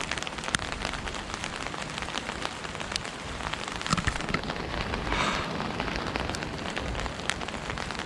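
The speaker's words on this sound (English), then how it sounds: "although it's raining" Steady rain patters on surfaces nearby in a Tokyo allotment garden, with scattered louder drops and splashes over a constant hiss.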